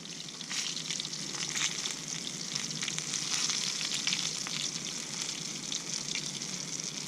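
Breaded bullhead fish fry in hot grease in a Griswold cast iron skillet, making a steady, dense crackling sizzle that stays loud and even throughout with no talking over it.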